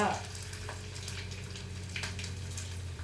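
Asafoetida sizzles in hot oil in a frying pan with curry leaves for a Telugu cucumber dal, a steady faint frying hiss with a low stove hum and occasional soft stirring clinks.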